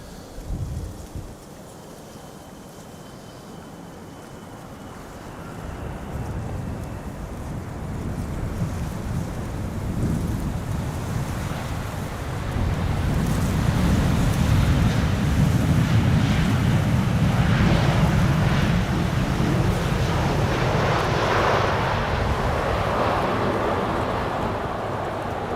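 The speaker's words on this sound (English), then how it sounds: "It's definitely causing an increase in wind speeds over here in the Netherlands." Strong wind from Storm Bert buffeting a microphone at Amsterdam Schiphol Airport, a loud continuous roar that swells and builds over time with rushing gusts and no talking.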